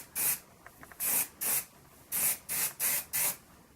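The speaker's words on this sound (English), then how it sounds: "I'm just going to go ahead and like spray this into all of my roots" An aerosol can sprays hair product into the roots of greasy hair in six short, sharp hissing bursts, evenly spaced and close to the microphone, with no talking.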